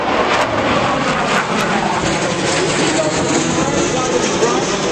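A military jet flying with wings swept fully back and power up at the Dayton air show produces a loud, steady roar that fills the air without letting up.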